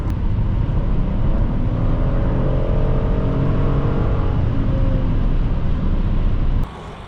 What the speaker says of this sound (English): Today we are driving a 2012 Hyundai Santa Fe V6